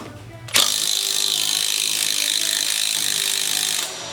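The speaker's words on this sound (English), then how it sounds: "now we're going to remove the 4 bolts" Ratchet wrench removing bolts from the swingarm area of a 2019 Kawasaki ZX-10R KRT motorcycle, a fast continuous clicking pawl buzz that starts abruptly and runs steadily for several seconds, close and loud, then cuts off.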